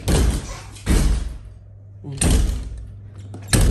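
A door is slammed repeatedly but fails to latch shut, giving loud banging thuds with rattling at irregular intervals over a steady low hum, with a voice heard between the bangs.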